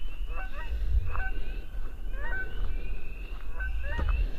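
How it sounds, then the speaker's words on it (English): Several short honking bird calls repeat at irregular intervals over a steady low rumble of outdoor background noise, moderately close. "That sounds like some kind of a bird."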